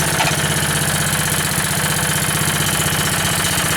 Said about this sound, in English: One thing nice about Honda engines, they're pretty easy starters.